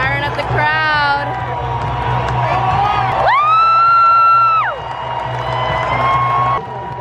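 A football stadium crowd of Iowa Hawkeyes fans cheers and whoops loudly at a bowl game against Kentucky, with a sustained rising shout from the crowd and people talking nearby.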